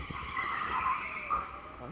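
Go-kart tyres squeal and skid as the kart oversteers on an indoor track, a wavering high-pitched screech rising and falling under a driver's talk.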